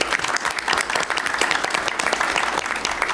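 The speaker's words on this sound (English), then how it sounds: "Round of applause, please" Sustained applause fills a Howard County Board of Education meeting as a newly elected vice chair is congratulated: a dense, steady patter of many hands clapping at close range, lasting throughout without a break.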